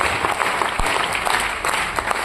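Audience applause at a company gathering, dense even clapping from a large crowd throughout, loud and close.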